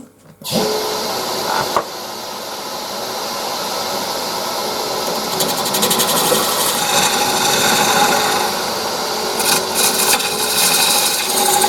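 A wooden tenon on a turned urn is shortened by hand with a saw or rasp, giving loud, close, continuous scraping strokes that grow rougher and more gritty over time, with no speech.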